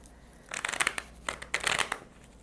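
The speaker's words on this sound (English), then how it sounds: "let me get a good shuffle in for this clarification for Libra" Tarot cards being shuffled by hand, a few quick riffling bursts of papery flutter and crinkle close by, separated by short pauses, with no talking.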